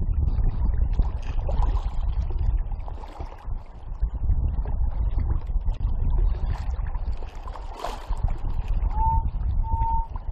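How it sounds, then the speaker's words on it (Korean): Strong wind at sea on a cold morning, a continuous low buffeting roar across the microphone with gusty swells. Faint tonal beeps enter near the end. "지금 바람도 많이 불고 날씨가 굉장히 춥네요."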